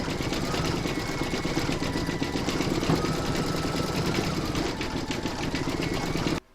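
An embroidery sewing machine stitching the white eye fill on a Dress Up Tony doll, a loud, close, continuous rapid needle hum and rattle that runs steadily and then stops abruptly at the end.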